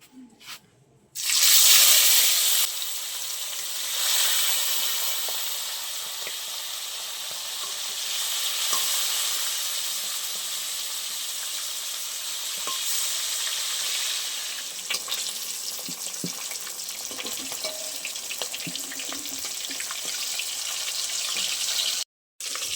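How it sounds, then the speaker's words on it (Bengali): Cut tilapia pieces sizzle in a generous amount of hot white oil, a loud, dense crackling that bursts in at the start and then holds steady and close for the whole stretch, with no voices. "তেল গরম হয়ে গেছে, এবার কেটে রাখা মাছ দিয়ে দেবো।"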